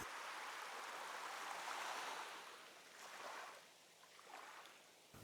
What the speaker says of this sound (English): The ambience was calm and relaxing with just the sound of the waves in the immediate area.